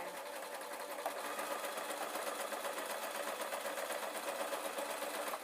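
A sewing machine stitches along the front of a felt dwarf hat, a fast, steady mechanical whirr with an even rapid needle rhythm, close and continuous throughout.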